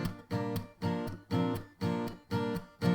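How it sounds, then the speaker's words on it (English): Close acoustic guitar strummed with the hand muting all strings after every beat, giving six evenly spaced choppy chord bursts with short gaps of near silence between them, played for a song. "using your hand to mute the entire strings after every beat"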